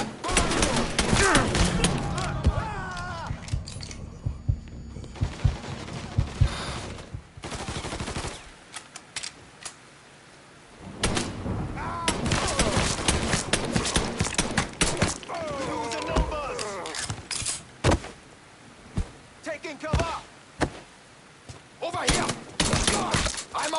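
Rapid automatic gunfire from a shootout in the video game Mafia III, with long rattling bursts, sharp single shots and shattering impacts. A brief lull breaks it midway, and a player shouts excitedly over much of the firing.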